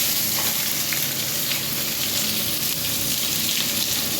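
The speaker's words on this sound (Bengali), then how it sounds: "তো এই যে পেঁয়াজটা তেলে দিয়ে দিচ্ছি, দেখো।" Sliced onion frying in hot oil in a home kitchen, a steady dense sizzle and crackle running loud and unbroken throughout.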